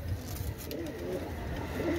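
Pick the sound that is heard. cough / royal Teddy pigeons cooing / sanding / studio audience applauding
royal Teddy pigeons cooing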